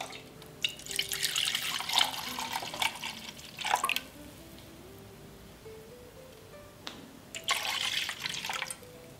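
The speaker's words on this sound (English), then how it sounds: "you can then just disperse out your paraffin wax" Melted paraffin wax for dip-dyed pillar candles is poured into several containers in short separate bursts of liquid splashing and trickling, close by, with quiet pauses between pours.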